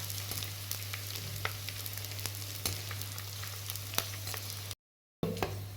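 Edible gum (gond) frying in a pan for laddu, an even, close sizzle with scattered sharp crackles and pops, briefly cutting to silence near the end before the frying resumes.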